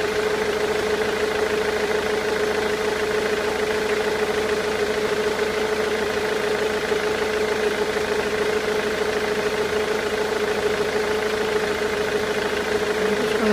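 A diesel engine idles at a steady, even drone throughout, moderately loud and continuous, with no talking.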